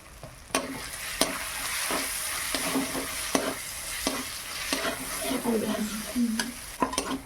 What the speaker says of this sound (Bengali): খুব সুন্দর মশলাটা ভাজা হয়ে গেছে,